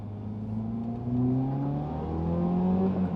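A Toyota Celica GTS with a 2ZZ-GE engine revs up in second gear, its rising harmonic engine note climbing steadily and loudly throughout, close and continuous with no talk.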